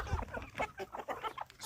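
Chickens on a poultry farm, birds kept for Newcastle disease vaccination, cluck in short, repeated bursts at a quiet level, several overlapping calls forming a steady chatter.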